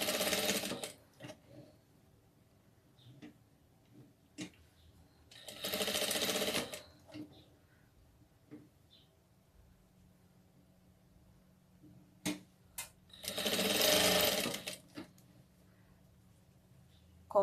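Short bursts of a sewing machine stitching a doll dress sleeve, two longer runs of about a second each plus scattered quick clicks, close and moderately loud, separated by quiet handling of the fabric.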